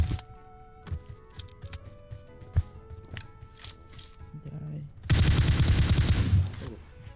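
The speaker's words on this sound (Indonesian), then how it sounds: "Dia nembakin bot." Bursts of gunfire in the PUBG Mobile battle royale game, scattered sharp shots early, then a loud, dense sustained volley near the end, over game background sound.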